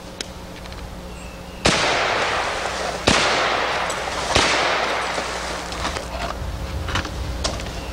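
A Crossfire MK1 pump-action rifle chambered in .223 fires three loud, sharp outdoor shots about 1.5 seconds apart. Each crack is followed by a lingering echo.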